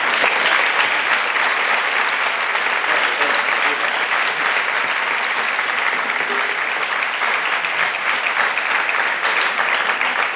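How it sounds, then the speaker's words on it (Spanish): An audience at the presentation of the 2024 Laredo Battle of Flowers applauds the float builders with dense, loud, continuous clapping that holds evenly throughout, with faint crowd noise mixed in. "Un aplauso para ellos."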